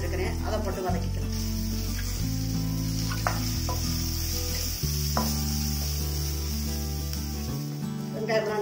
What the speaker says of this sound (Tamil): இந்த டயத்துல சின்ன வெங்காயம் அரிஞ்சு வச்சிருக்கிறேன், அதை போட்டு வதக்கிக்கலாம்